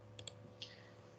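A computer mouse clicks quietly, first as a quick double click and then as one more single click, close and crisp against a faint, steady background hum.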